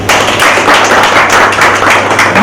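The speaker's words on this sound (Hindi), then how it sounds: "ग्रेट, सो एक बार मैडम के लिए तालियां।" Audience clapping loudly and close for a speaker at an aqua therapy talk on cerebral palsy in children, a dense, steady patter of many hands with no speech over it.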